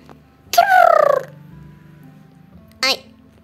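A person's voice imitates a pigeon in the Roblox game Miraculous RP: one long warbling, throaty coo followed a moment later by a short second burst, both loud and close, with a quiet game background.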